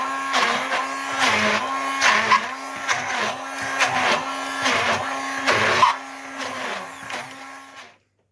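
A food processor whirs in loud, steady bursts as it purees prawns with white pepper and onion salt, pulsing on and off for several seconds before cutting out abruptly.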